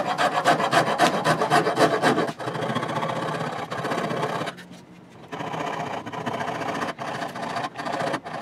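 A hand rasp or file shaping a wooden guitar neck, loud close scraping strokes in a fast steady rhythm at first, then longer rubbing passes broken by brief pauses, with no talk.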